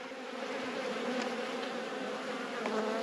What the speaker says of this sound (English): Nice quiet bees